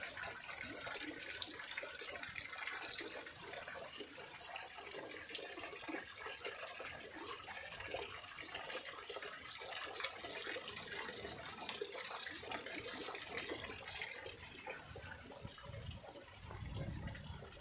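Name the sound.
water flowing through small garden ponds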